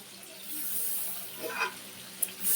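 Tap water runs steadily into a sink while vegetables are rinsed in a home kitchen, a soft continuous hiss with a few brief splashes and clinks near the end.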